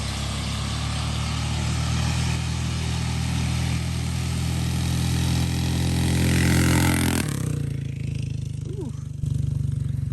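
Coleman 196 minibike engine running steadily at high throttle on a 300-foot test run, a loud continuous drone that drops off abruptly near the end, leaving a lower idle-like hum.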